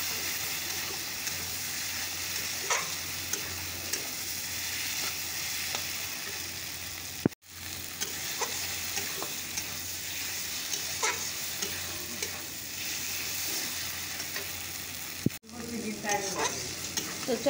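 Potatoes sautéing in spices in a pan while being stirred, a steady broadband sizzle with scraping strokes throughout, interrupted by two brief dropouts, no voices.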